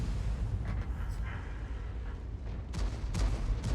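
Shell impacts striking an IS-3 heavy tank in World of Tanks, heard as dense rumbling battle noise with several sharp bursts near the end, under low background clamour.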